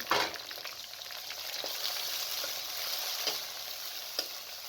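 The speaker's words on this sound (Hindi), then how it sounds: "गोश्त को 3 से 4 मिनट तक भून लें ताकि इसका कलर चेंज हो जाए।" Meat sizzles in a pan with onion, garlic and ginger while being cooked for saag gosht, a steady close frying hiss with occasional soft stirring clicks and pops, no talking.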